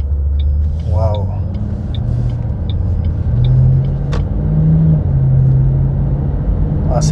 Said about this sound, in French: J'espère que vous entendrez parfaitement le son du V8